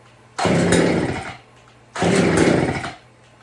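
Old Homelite 150 Automatic chainsaw engine sputtering to life in two separate rough bursts of about a second each, loud and close, with a short pause between them and no talk.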